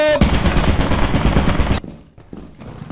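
Rapid automatic fire from turrets in the video game Lethal Company, a loud dense burst of shots for nearly two seconds that then cuts off into quieter game noise.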